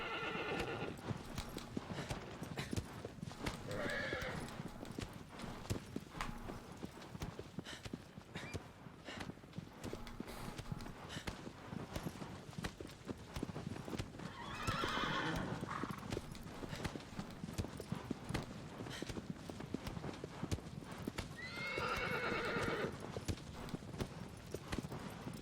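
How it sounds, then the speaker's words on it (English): A horse in the Shadow of the Colossus (2018) game gallops with steady clip-clop hoofbeats throughout, breaking into three loud whinnies near the start, middle and end, with no talk. "Stupid horse."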